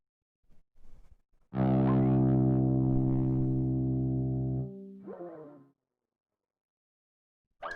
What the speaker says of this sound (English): This is a GT120 green master volume unit built in 2018.